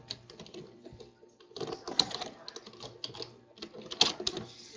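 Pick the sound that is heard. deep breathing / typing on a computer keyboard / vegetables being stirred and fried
typing on a computer keyboard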